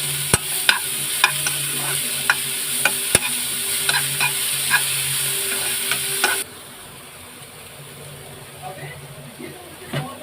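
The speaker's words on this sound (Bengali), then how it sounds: "এবার পেঁয়াজটাকে আমি ছোটো ছোটো চপ করে রেখেছিলাম, যেটা আমি দিয়ে ভালো করে ভেজে নেব" Finely chopped onions sizzle in a pan after ginger and garlic, a steady close frying hiss broken by sharp clinks of a stirring spoon; the sizzle drops to a quieter simmer partway through, with a voice speaking at points.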